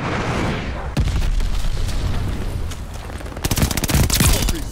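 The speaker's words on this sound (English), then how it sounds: "Enemy glide bomb coming in hot!" Explosions and heavy gunfire in a Call of Duty match, with a sharp blast early on, then dense rapid bursts of automatic fire building loudly toward the end.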